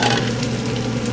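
Italian sweet and hot sausage browns in a pan for chocolate-tequila chili, a steady, dense sizzle of frying close by, with no talk.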